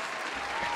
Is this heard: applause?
yes